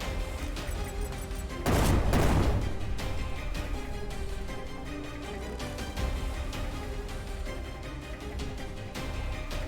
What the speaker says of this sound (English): Let's try grenade instead.